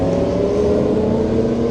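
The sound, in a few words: motorcycles passing by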